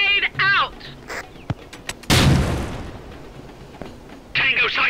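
A grenade detonates in Tom Clancy's Rainbow Six: Lockdown, a single loud, booming blast midway that rumbles away over a second or two. Brief shots and radio-style voices come before and after it.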